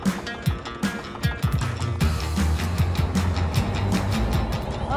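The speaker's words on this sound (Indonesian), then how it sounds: "Saat ikan berkumpul di tengah, jaring segera ditarik dengan bantuan mesin." A machine on a fishing boat hauls in a net, giving a close, irregular mechanical clatter and knocking with a steady motor hum underneath, with no voices.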